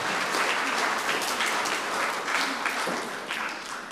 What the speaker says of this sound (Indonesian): Mari kita beri tepuk tangan buat persembahan pujian dari Paduan Suara Gandaria.